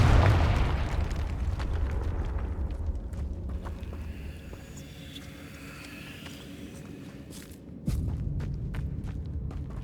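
A Confringo fire spell explodes in the Hogwarts Legacy video game, a loud burst at the start fading into a rumbling decay with scattered crackles and footsteps, then a second thud near the end.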